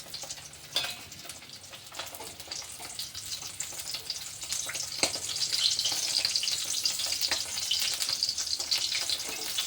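Fish frying in hot oil in a home kitchen crackles and sizzles continuously, the spitting growing busier and louder partway through, with occasional sharper pops.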